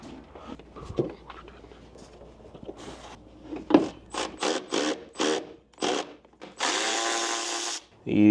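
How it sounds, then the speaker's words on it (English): Thread chaser or tap clearing paint from bolt threads on a Porsche 911 Turbo, heard as a run of short close whirring bursts with brief pauses, ending in a longer steady whine. "These threads definitely need chased from the paint."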